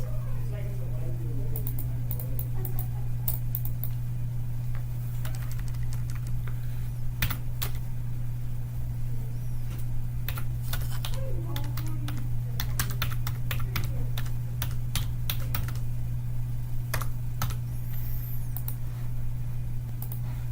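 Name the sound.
typing on a computer keyboard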